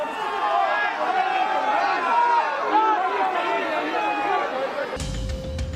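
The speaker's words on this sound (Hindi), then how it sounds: "भीड़ में से जय श्री राम के नारे सुनाई देने लगे" A large crowd at a government event in West Bengal, with Mamata Banerjee on stage, shouts the slogan Jai Shree Ram, a dense babble of many voices for several seconds before it abruptly cuts to a different, louder sound.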